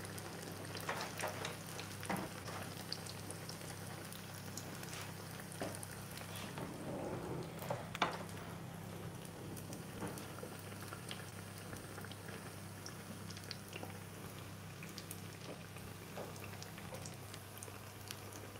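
Homemade Apulian panzerotti frying in hot oil give a faint, steady bubbling sizzle with scattered pops and crackles under a low background hum, with no one speaking.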